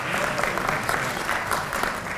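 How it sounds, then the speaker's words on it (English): Sustained applause from a conference audience at a health students' leadership closing session, steady dense clapping filling the room throughout. "let's give him a hand of applause"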